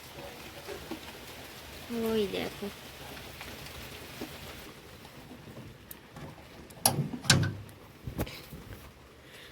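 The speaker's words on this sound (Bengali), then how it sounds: "প্রথম বৃষ্টি শুরু হয়ে গেছে বাইরে" The first rain of the season falls outside during a power cut, a soft steady patter with scattered drips, while a person speaks briefly and a couple of louder knocks sound near the end.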